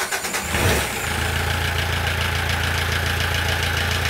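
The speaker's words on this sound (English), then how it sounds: "Because it's a diesel engine, the glow plugs will heat up the engine, the fuel, and then also the injectors will fire up." A diesel boat engine cranks briefly after its glow plugs have heated, then catches and settles into a steady, close, low idle that runs alone to the end.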